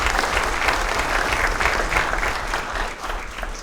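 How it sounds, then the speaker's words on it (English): A crowd at a mayor's community night out event in Hammond applauds the mayor, steady sustained clapping filling the room from start to finish before tapering slightly. "Can you give him a round of applause"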